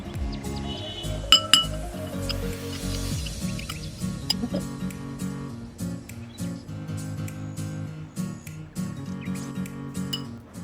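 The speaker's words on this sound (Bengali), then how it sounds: "সবশেষে সামান্য একটু ধনিয়া গুঁড়ো দিয়ে আমরা ভালোভাবে চিকেনটি মিক্স করে নেব।" Marinated chicken is mixed with ground coriander, garlic paste and soy sauce in a bowl. Scattered light clinks and taps sound against the bowl over a bed of tonal background music.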